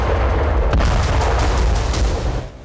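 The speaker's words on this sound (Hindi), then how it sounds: "तभी यहां छत से रूस का ग्लाइड बम छत फाड़कर घुसा और जोरदार धमाका हुआ।" A Russian glide bomb tears through the roof of a crowded shopping mall in Ukraine and explodes, heard as a loud, close, sustained roar of blast noise with crackling bursts, no voices.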